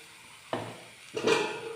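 Crushed ginger and garlic frying in a pan are stirred, giving two soft bursts of sizzling hiss with a faint scrape, close and quiet.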